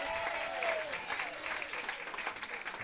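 Audience applause for Stanley, a man picked out of the crowd at a stand-up comedy show, a steady clatter of clapping with some voices and cheers mixed in, fairly faint and not close.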